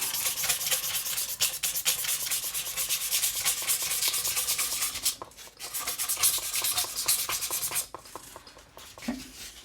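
Sandpaper is rubbed back and forth along the frets of a Gibson Les Paul Studio guitar during fret leveling, a continuous close scratchy rasp with a few brief pauses.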